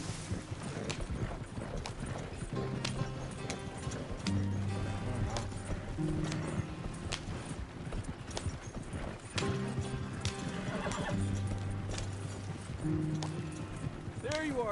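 Horse hooves clip-clop at a fast gallop in Red Dead Redemption 2, a steady rapid rhythm running throughout under game music and a brief whinny, with occasional spoken voices over it.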